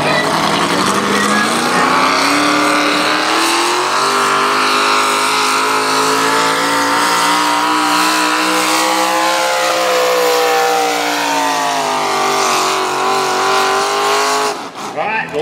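Roaring engine of a modified pulling tractor at an evening tractor pull in Nordheim, Econo Rod class, a loud sustained howl rising and falling in pitch for about fifteen seconds before cutting off, with crowd voices mixed underneath.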